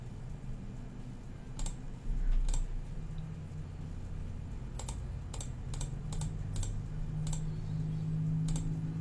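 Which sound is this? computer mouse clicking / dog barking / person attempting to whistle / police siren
computer mouse clicking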